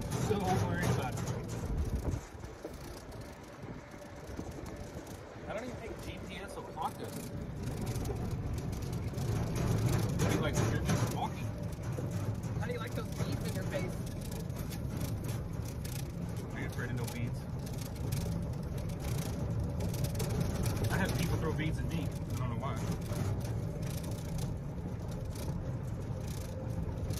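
A modified golf cart drives along with a steady low rumble from the drivetrain and heavy wind buffeting across the microphone, holding a continuous roar that swells and dips slightly throughout, with no clear voices on top.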